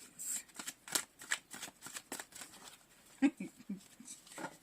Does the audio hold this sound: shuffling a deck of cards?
yes